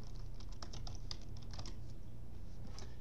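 Someone types a Shopify store URL on a computer keyboard: a quick, irregular run of crisp key clicks, close and on its own over a low steady hum.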